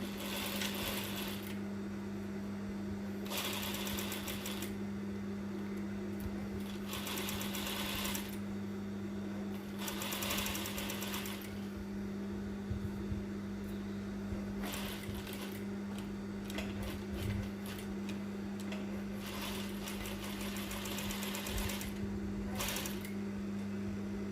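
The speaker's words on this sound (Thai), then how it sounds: "เราจะเย็บด้านบนก่อนนะคะ ด้านบนท้งที่เป็นจมูกนะคะ เย็บเข้ามา 1 ตีนผีหรือ 6 มิลนนะคะ" A sewing machine stitches the top nose edge of a fabric face mask with a 6 mm seam. It runs in repeated steady bursts with short pauses over a constant motor hum, close and clear, with no talking.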